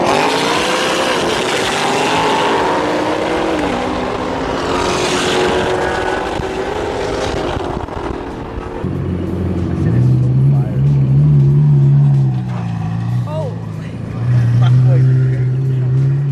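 A Corvette and a Mustang drag race, the engines roaring loud and close at first with rising revs, then fading into a steadier droning rumble as the cars run off, while people talk over the noise.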